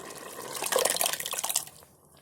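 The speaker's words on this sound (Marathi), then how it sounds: "आता त्याच्यामध्ये ही डाळ ओतते." Cooked dal (lentils) poured into a pot of sambar, a short wet splashing and glugging pour lasting under two seconds, close and fairly quiet.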